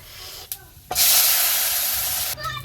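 Hot panch phoron tempering is poured into mashkalai dal cooked with fish head on a clay stove, erupting in a loud, sustained sizzling hiss for over a second before dying down amid faint clatter.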